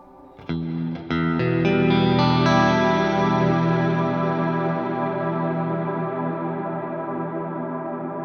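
A few plucked notes build into a sustained effected chord that rings out and slowly decays in a long reverberant wash.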